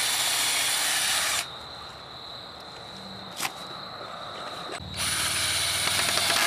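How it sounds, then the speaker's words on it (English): A power drill whirs loudly, pre-drilling a pilot hole near the end of a wooden board, stops for a few seconds of quieter sounds with a brief knock, then whirs again. "I'm gonna pre-drill this"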